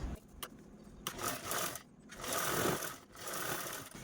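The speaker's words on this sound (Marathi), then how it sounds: "अशा पद्धतीने अगोदर ही झीप स्टिच करायची" A sewing machine stitches a zipper onto a sling bag in uneven bursts, the close mechanical whir starting and stopping several times, with no speech.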